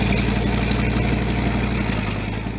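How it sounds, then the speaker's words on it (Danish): Diesel engine of a Danish army mine plough vehicle in Afghanistan, a loud, steady low rumble running close by with no speech. "Mineploven starter motoren og kører frem for at rydde et spor for miner."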